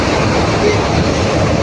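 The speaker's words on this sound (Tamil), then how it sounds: "மெட்ரோ ட்ரெயின் வருது பாருங்க" A Bengaluru Green Line metro train roars past close by, heard from a road, a loud continuous rumble and rush of wheels on rails that holds steady for the whole stretch.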